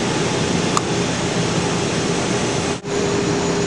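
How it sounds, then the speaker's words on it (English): A vacuum evaporator chamber being vented to air gives a loud, steady rushing hiss that holds throughout, with one brief dip near the end. "Hit this button here, and we are now evacuating the chamber to air."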